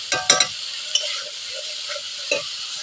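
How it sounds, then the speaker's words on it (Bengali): Spices frying in a pan are stirred, giving a soft steady sizzle broken by several sharp scraping strokes of the spoon against the pan, close and clear with no talk. "মশলাগুলো দিয়ে কিছুক্ষণ নেড়ে নিচ্ছি"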